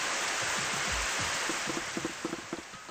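Overhead sprinklers spraying water indoors in Super Danganronpa Another 2, a steady, hissing wash of spray that stays constant and fairly soft, with faint low knocks rising beneath it toward the end.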